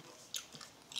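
Toxic Waste sour candy chomped up close, a few faint, crisp crunching bites over about a second.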